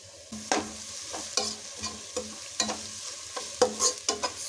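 Crushed garlic frying in a pan for mutton pulao, a soft steady sizzle broken by repeated clicking scrapes of a spoon stirring against metal.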